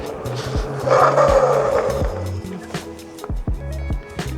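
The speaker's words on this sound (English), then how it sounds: "All right, let's test hydraulic disc brakes." G-Force T7 e-bike brought to a hard stop from about 25 mph on a parking lot, hydraulic disc brakes making the tire skid and squeal for a few seconds over the steady rush of wind and road noise.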